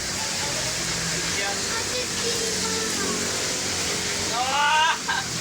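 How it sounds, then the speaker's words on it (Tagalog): Steady rain falls outdoors along Manila Bay, a constant broadband hiss with a voice talking over it and a brief whistle-like tonal burst near the end. "Kahit umuulan ha"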